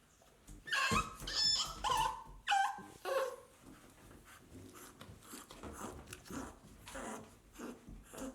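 An American Bully puppy whimpers and yips during a bath. The high, wavering cries come up close in bursts over the first few seconds, then settle into softer whines and wet rustling.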